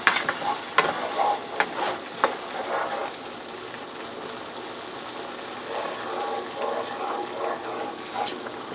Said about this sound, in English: it just says to ladle the broth a little at a time and stir continuously